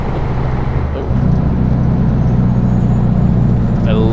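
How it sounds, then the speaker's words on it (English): Air release and low rumble of a truck's exhaust brake in American Truck Simulator, a steady loud diesel drone that deepens about a second in and holds, with a short hiss near the end. "I love that exhaust brake sound, oh man"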